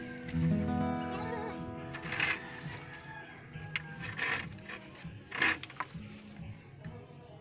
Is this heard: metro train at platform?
no